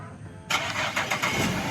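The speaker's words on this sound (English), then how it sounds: "And I'm gonna do the remote start." A Cadillac fires up by remote start. A loud, close engine catch comes in abruptly and settles into a rough, throbbing idle with a few rhythmic surges, with no talking.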